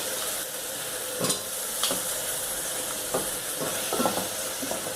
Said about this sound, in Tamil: போட்டுட்டு அதை திருப்பி நல்லா ஒரு வதக்கு வதக்கணும்